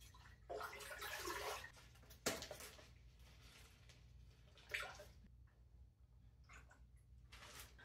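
Water pours into a crock pot in a kitchen, a close splashy gush lasting about a second, followed by a sharp knock and a few quieter splashes and handling clatters over a low hum.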